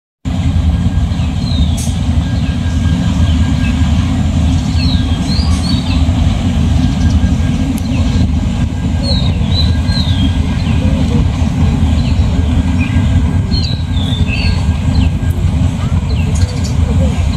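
A long train rolling slowly past close by, a loud continuous rumble and clatter of wheels holding steady throughout with faint squeals, and a voice talking over it.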